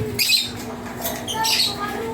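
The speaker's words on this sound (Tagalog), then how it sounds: "tuhuliin na natin mga kapatid yung nating nakawalang ibon" An escaped green opaline pet bird, apparently a parrot-type, gives harsh squawks and short shrill calls in a couple of bursts while being caught, close by, with handling noise and a faint background hum.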